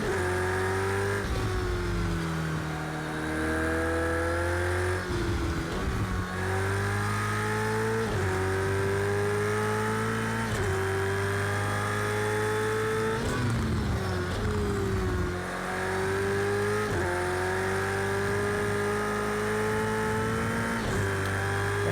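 A Ferrari 488 GTE race car engine from the Project CARS 2 video game drones steadily at high revs, its pitch sweeping up through the gears with repeated shift drops and brief lifts, loud and continuous with no talking.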